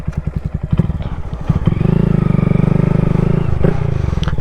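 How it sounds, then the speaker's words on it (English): A 2021 Honda Grom stunt-build motorcycle revs hard up close for wheelies, the engine's loud rapid pulsing climbing into a sustained high-rev roar, then dropping and rising again, with some clattering at the start. "get into some wheelies"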